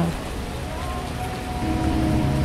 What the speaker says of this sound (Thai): ฝนตกก็เอาเรื่องนะผม